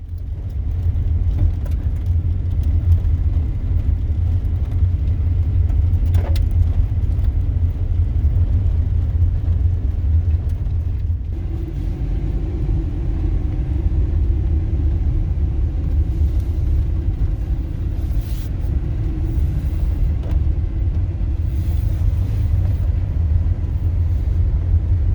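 Car driving on a road in Montana, heard from inside: loud, constant low rumble of tires and engine that continues without a break.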